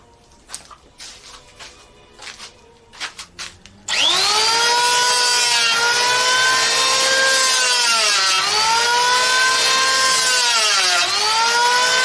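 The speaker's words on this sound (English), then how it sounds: "Let me try and do it with a planer." A power planer shaping wood for whakairo carving: a few knocks and handling taps, then the motor kicks in loud and steady with a whining tone that dips slightly as the blade bites into the wood in repeated passes.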